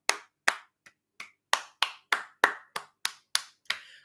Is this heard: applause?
yes